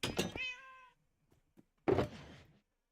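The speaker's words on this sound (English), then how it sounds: "Okay, so we got brown and white kitty." Two close, clear cat meows from a brown and white cat in the Minecraft video game, separated by a short pause with faint soft thumps.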